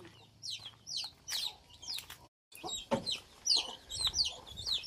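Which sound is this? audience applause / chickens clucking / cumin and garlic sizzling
chickens clucking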